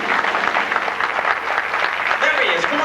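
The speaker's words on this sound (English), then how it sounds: "let's have a nice round of applause for our first contestant, Jimmy Marks" A crowd gives a round of applause for a contestant at a contest show, a dense wash of clapping with a voice talking over it.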